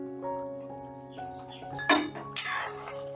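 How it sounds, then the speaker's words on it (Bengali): Pumpkin kofta curry gravy stirred in a pan with a utensil, giving a few clinks and scrapes of metal against the pot, a sharp clatter near the middle and another scrape near the end, close and fairly quiet. "এবার সমস্তটা আমি একটু নাড়াচাড়া করে নিচ্ছি, মানে ঝোলের সাথে মিশিয়ে নিচ্ছি।"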